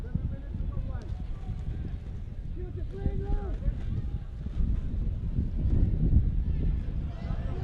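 Wind gusts across the microphone at an outdoor cricket ground around sunset, a steady low buffeting roar that swells slightly toward the end, with faint crowd and commentary noise underneath.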